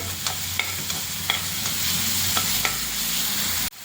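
Green chili, ginger and garlic paste fries in a pan with a steady sizzle, punctuated by regular sharp scrapes of a spatula stirring about every half second, close and clear before an abrupt cut.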